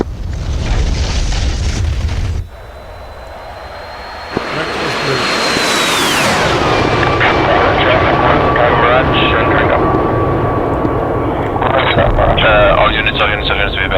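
A Mirage jet landing in the DCS World flight game, with a loud engine roar and whine that swells, then shifts down in pitch and settles into a steady drone. Radio chatter runs over it.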